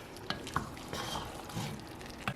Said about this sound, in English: let me get my wooden spoon. Now just mix that up.